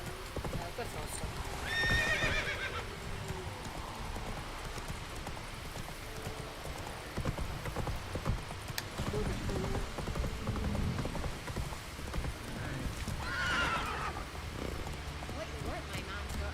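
Roach, a horse in The Witcher 3 video game, gallops with steady clip-clop hoofbeats and whinnies twice, loud and close, while voices talk over the game audio.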